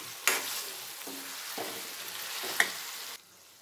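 Spicy chicken pieces coated in masala fry in a pan with a steady, soft sizzle, broken by a few sharp scrapes and clinks of a stirring spoon, then the sizzle suddenly drops lower near the end.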